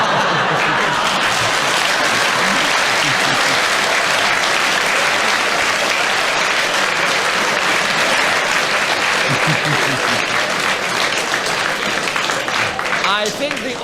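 Studio audience of a radio panel game show breaks into loud, sustained applause, dense and even clapping filling the whole stretch with a few scattered voices beneath.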